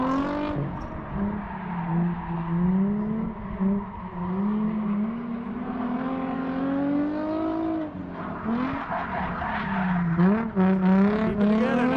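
A Nissan 350Z drift car at a drift event screams at high revs through a long slide, its engine note rising and falling as it holds angle, with tire noise and a commentator talking over it.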